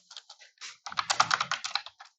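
Typing on a computer keyboard: a few scattered keystrokes, then a quick burst of steady, close clicking taps that slows into a handful of final presses, with no talking.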